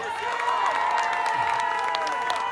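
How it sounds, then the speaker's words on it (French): Crowd at a political rally applauding and cheering, with shouts and whoops over dense clapping and a steady murmur of voices throughout. "On peut te faire un tonnerre d'applaudissements."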